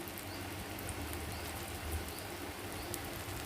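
Slices of pointed gourd (potol) pakora fry in oil over a lowered flame, giving a soft, steady, faint crackle and patter without any voices.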